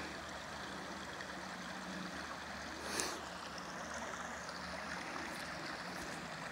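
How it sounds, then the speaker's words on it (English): Stream water flows in Cuyahoga Valley National Park near the Everett Road covered bridge in November, a steady broadband rush with no voices and only a brief splash partway through. "The water is flowing nice."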